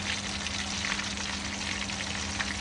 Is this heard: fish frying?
yes